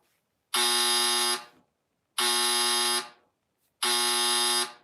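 A trivia night answer buzzer goes off three times. Each blast is a loud, harsh electronic buzz lasting about a second, with evenly spaced gaps of silence between them.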